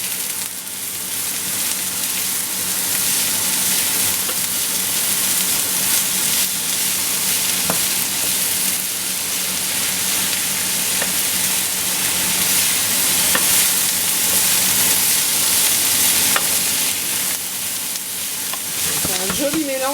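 Carrots and parsnips sizzle steadily in a frying pan while being stirred, a continuous loud close-up crackle with scraping stir sounds running throughout, no talking.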